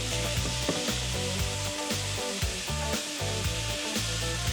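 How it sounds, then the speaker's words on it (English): Pheasant breast and onions sizzle steadily in a frying pan over medium heat, a loud, continuous crackle with occasional scraping stirs, no voices. "I'm gonna go ahead and toss in the pheasant."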